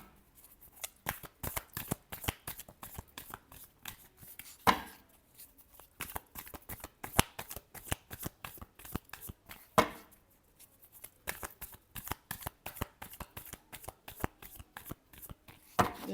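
Tarot cards being shuffled by hand: long runs of rapid, crisp riffling flutters, close and fairly soft, repeated in bursts with brief pauses and occasional taps as the deck is squared, no talking.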